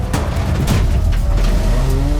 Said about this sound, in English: Into turn 1, Sandell gets pushed into the barrier.